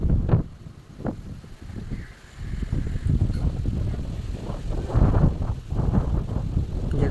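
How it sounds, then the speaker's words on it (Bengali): Gusty wind buffets the microphone outdoors during a rainstorm while fishermen haul up a net. It makes a low, rumbling roar that swells and fades in uneven surges with no clear talk. "যেমন বাতাস হচ্ছে তো আওয়াজটা ক্লিয়ার আসবে না"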